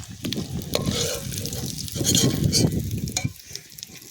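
Silver carp fish frying in hot oil, a dense, steady sizzle with a few sharp spatters and utensil clicks, fairly loud and close.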